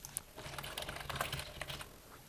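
An email address being typed on a computer keyboard: a quick, irregular run of close, light key clicks with no talking.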